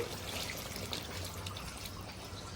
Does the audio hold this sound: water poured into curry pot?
yes